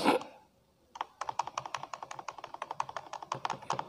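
Fast run of keystrokes on a computer keyboard while a document is edited in Microsoft Word, close and clear, starting after a brief burst of noise and a short pause.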